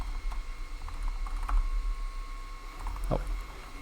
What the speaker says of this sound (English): I'm going to type in connector